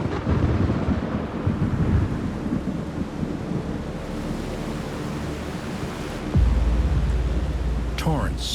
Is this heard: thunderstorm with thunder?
yes